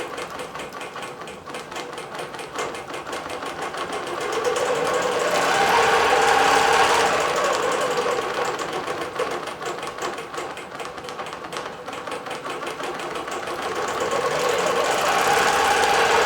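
A computerized quilting machine stitches a quilt with a fast, steady mechanical chatter of needle strokes, moderately loud and continuous, with a motor hum that swells and eases in cycles.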